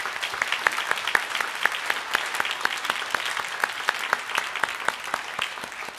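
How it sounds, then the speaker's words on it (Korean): A church congregation applauds in welcome during a Sunday worship service, steady, even clapping from many hands that holds at a constant level throughout with no voices over it. "잠깐 일어서시면 우리 환영의 박수로 함께 하도록 하겠습니다"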